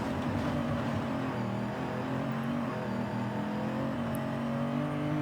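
A Subaru in the racing game Forza Horizon 5, its engine droning steadily with a thin transmission and differential whine layered over it, continuous and even at moderate level with no talk.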